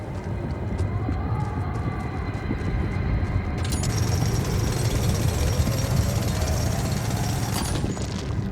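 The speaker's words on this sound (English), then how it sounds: "Okay, I need to drill here." Mining drill running in The Alters video game, a loud, steady mechanical rattle and grind that shifts in tone partway through and stops near the end.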